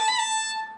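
A short bowed phrase on a fiddle, notes sliding smoothly into one another in a single slurred stroke, clear and close.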